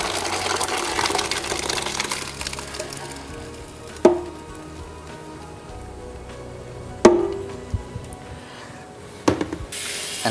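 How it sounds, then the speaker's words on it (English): Parboiled rice for saffron tah chin being tipped into a sieve, a rushing pour of water that gives way to quieter dripping, with three sharp clanks of the pot or sieve at intervals, nearby. "so we need to sieve the rice"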